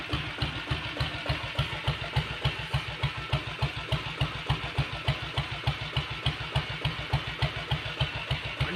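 A Royal Enfield Red Deluxe self-start diesel Bullet motorcycle idles steadily, its single cylinder thumping in a fast, even rhythm close by, loud and alone without any talk.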